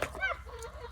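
A backyard chicken gives a short run of quick clucks right up close, followed by a softer, drawn-out murmuring call, with faint background hum underneath.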